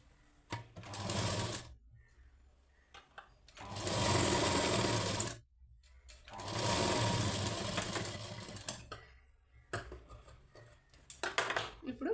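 A sewing machine stitches a blouse lining in three long, loud running bursts separated by brief pauses, then a string of short stop-start clatters near the end.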